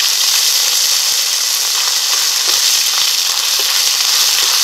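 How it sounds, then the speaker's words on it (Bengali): Whole cumin seeds and bay leaves drop into hot mustard oil in a wok and sizzle loudly. The frying hiss stays steady and close throughout, with a few faint pops and no talk. "ফোড়নে দিয়ে দিচ্ছি গোটা জিরে ও তেজপাতা"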